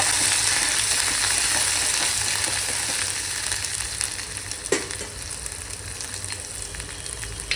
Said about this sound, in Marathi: आता आपण हा मसाला जो मिरचीचा ठेचा मी बनवलेला आहे तो सोडूया।